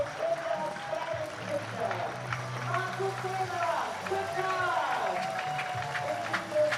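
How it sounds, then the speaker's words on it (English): A crowd at a German league baseball game between the Bonn Capitals and Cologne Cardinals applauds a departing pitcher, a sustained smattering of clapping across the stands while a commentator talks over it. "he'll get a nice hand from the crowd here for his performance today"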